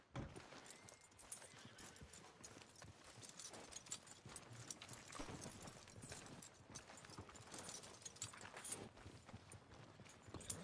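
Steady clip-clop of horse hooves walking at an even pace in Red Dead Redemption 2, quiet and continuous over a dense background wash, with no voices.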